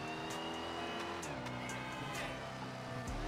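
Dodge Hellcat exhaust in the GTA video game: a deep, continuous engine drone with shifting harmonic tones as the car revs and shifts, close and steady, with brief tire chirps.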